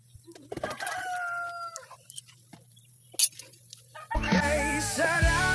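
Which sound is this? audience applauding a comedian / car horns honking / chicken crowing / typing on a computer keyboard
chicken crowing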